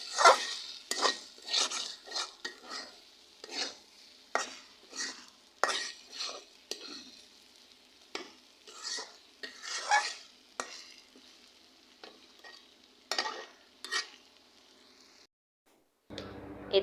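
Bean curry with ground mustard paste being stirred in a cooking pot, a spoon scraping the bottom in quick, repeated strokes with a soft sizzle, close and steady with no talking.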